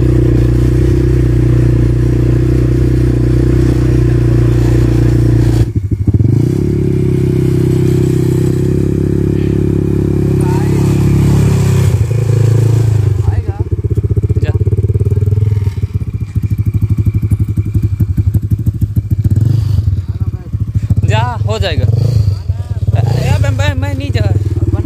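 ATV quad bike riding at Tandula Dam in Balod, Chhattisgarh: a loud, steady engine drone runs close and continuous, with thumps and rattles over rough ground and a gear or throttle change partway through, under occasional talk.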